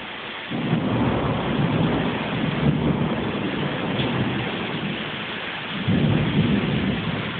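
Thunder rumbles low and heavy through a steady downpour of tropical rain, starting with a sudden boom, easing, then swelling again with a second roll near the end, with no talk.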